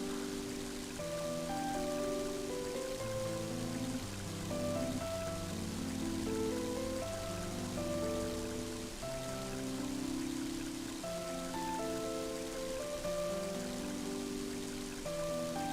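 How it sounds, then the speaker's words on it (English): Rain falls in the video game Mother 3, a steady soft wash of drops that blends with melancholy synth music carrying on throughout. "And now it's starting to rain."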